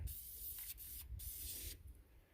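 Krylon camouflage brown ultra flat spray paint hisses from an aerosol can in several short bursts separated by brief pauses, close and fairly quiet.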